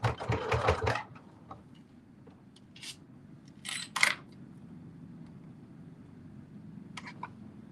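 A sewing machine runs in a short, loud burst at the start as it stitches through about eight layers of slipper fabric, followed by several faint, brief mechanical clicks and snips over a low, steady background hum.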